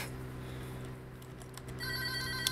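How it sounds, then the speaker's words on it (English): A mobile phone ringing outdoors at a large landscaping job with heavy equipment, a tonal ringtone pattern that grows clearer toward the end over a low steady engine hum. "Oh my gosh, there goes my phone."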